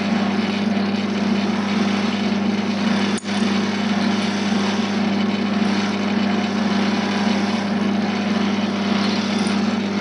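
A wood lathe hums steadily while a chisel, ridden on its bevel, takes fine cuts along a segmented pen blank, a constant even drone throughout with one brief dip near the start.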